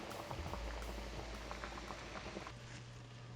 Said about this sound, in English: continue cooking until you have all your wieners boiled